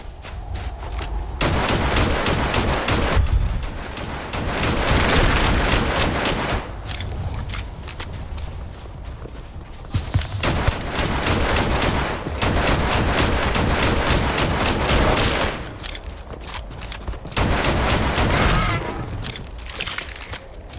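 Pistol fire in the video game Starfield comes in loud, dense bursts of rapid shots, several long volleys separated by brief pauses, close and harsh.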